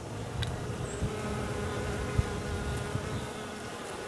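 Honeybees with packed pollen baskets buzz around late-season New England garden flowers in October, a soft continuous drone with a few brief louder passes close by, over faint outdoor background.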